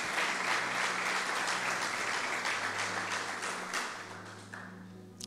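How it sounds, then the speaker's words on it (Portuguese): A church congregation claps together in sustained, even applause that stays full for several seconds and then tapers off, leaving faint scattered claps at the end. "Aplauda ao Senhor e glorifique o seu nome"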